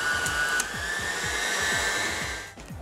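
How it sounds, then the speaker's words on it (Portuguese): Stand mixer beating cream cheese, sugar and vanilla into a pie filling, a steady close motor whine with a rhythmic low thumping of the beaters, running continuously before easing off at the end. "Na batedeira a gente coloca o creme cheese,"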